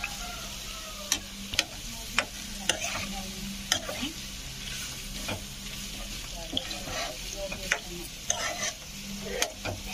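Carrot stir-fry stirred in a pan with a spatula, a steady close sizzle under repeated sharp scraping and tapping strokes roughly every half second throughout.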